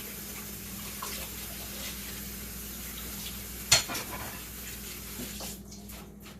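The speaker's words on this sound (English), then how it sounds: "Always rinse your plates after you use them." Water running from a tap while plates are rinsed at a sink, a steady soft rushing stream with one brief clink of dishware partway through, close and fairly quiet.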